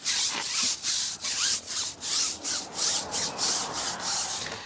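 A stiff brush scrubs truck tires on a Chevy Colorado, giving loud, close, rhythmic back-and-forth bristle strokes, about a dozen in a steady run with no talking.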